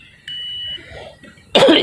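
An electrical tester checking current on a motorcycle's charging wiring gives a single steady electronic beep for about half a second when the probes touch, followed shortly by a nearby cough.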